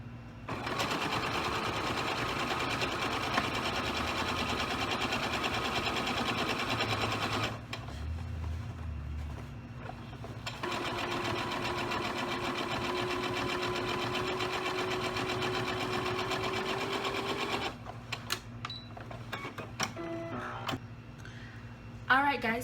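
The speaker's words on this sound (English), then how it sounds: "So now I'm going to get right into sewing." Sewing machine stitching a fabric pattern, a steady close mechanical whir with fast needle rhythm running in long stretches, pausing briefly between runs, with talk in places.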